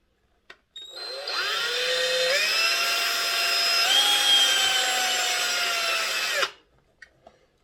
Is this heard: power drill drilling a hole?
yes